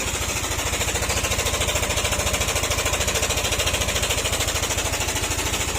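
Yamaha NMAX 155 scooter engine at 25,567 km, running loud and steady with a rapid, continuous mechanical chatter and a grinding noise from inside the engine, close up and with no talk.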